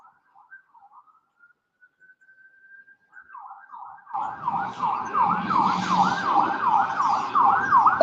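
An ambulance siren on a city street rises out of near quiet, its wailing, sweeping tones growing steadily louder and closer over rumbling traffic noise until it dominates at full volume.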